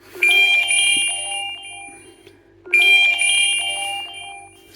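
A ringtone played on a phone, set off through the find-my-phone feature of a Garmin Instinct Solar watch: a bright chiming melody heard close and loud, playing twice with a short pause between, and no talking.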